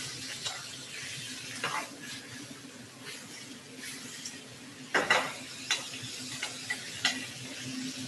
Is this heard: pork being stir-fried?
yes